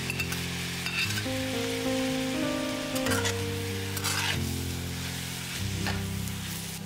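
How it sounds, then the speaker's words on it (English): Boiled potatoes hit a pan of sautéing onions and garlic, giving a steady, close sizzle with stirring scrapes throughout and no talking. "Sauté until the onions are translucent. In goes the boiled potatoes."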